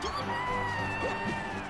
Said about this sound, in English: crowd cheering for Falcon